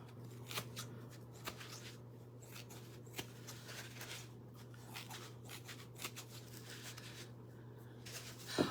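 Scissors trimming paper for a craft faux pumpkin pie, with soft irregular snips and rustling paper handling, faint and close, spread over a quiet background hum.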